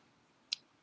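A single sharp computer mouse click, close and crisp, in an otherwise quiet room.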